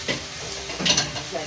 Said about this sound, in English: Mix everything